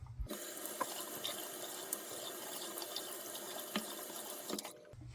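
Tap water runs steadily while a razor is rinsed under the stream, a continuous close splashing hiss with a few small clinks, starting and stopping abruptly.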